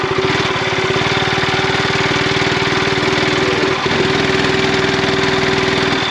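A Peugeot XP400 motorcycle sits idling, its exhaust giving a steady, loud, close-up rumble with an even low pulsing throb and a constant tone, briefly dipping once before settling back into the same idle.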